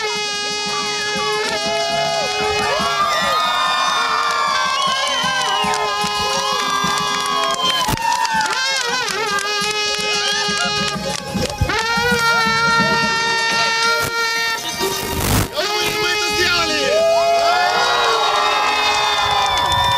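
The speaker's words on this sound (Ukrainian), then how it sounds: "рекордсменів у Коломиї зустрічають трембітами та оплесками" Townspeople greeting record-setting pilots after a long flight with cheers, shouts and clapping, mixed with trembita horns sounding sustained tones and other music, a loud continuous festive din throughout.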